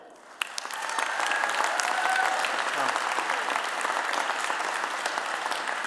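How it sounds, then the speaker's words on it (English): Audience applause at a rally against antisemitism, starting after a brief pause and swelling into steady, sustained clapping from a sizable crowd that carries on through the clip. "I think Senator Casey got short rift in the applause there"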